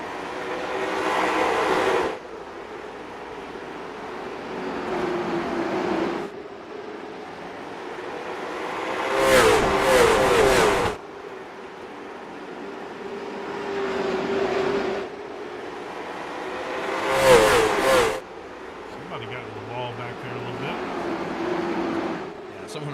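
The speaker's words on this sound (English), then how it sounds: "crank it up here and see what this car sounds like" Engine roar of a race car in a sim racing video game at South Boston, rising and falling as it accelerates and shifts through gears, with brief bursts of harsh noise between long steady revving stretches.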